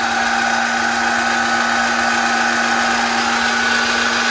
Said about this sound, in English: We can go ahead and lower my air jack.